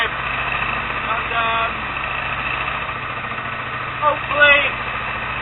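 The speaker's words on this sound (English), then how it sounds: "I've got engine going" The inboard engine of a Mac 18 sailboat runs on a steady low hum while the boat sails under a reefed mainsail in near-gale wind, and someone talks over it.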